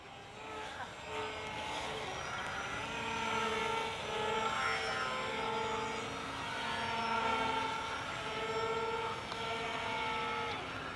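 An E-Flite X-VERT VTOL RC plane flies outdoors, its steady electric motor whine droning at moderate distance and rising and falling slightly throughout.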